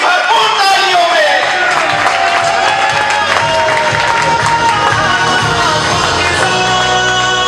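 Crowd at a packed oath-taking ceremony for newly elected traders' association officials in Pakistan, applauding and cheering loudly and continuously, with shouts and tonal music or voices running through the dense noise.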